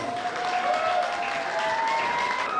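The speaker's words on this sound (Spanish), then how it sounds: "Un aplauso, por favor, para Claudia Muñoz." An audience at a queen pageant in Jutiapa applauds a contestant, with continuous even clapping and a sustained whistle-like tone running through it.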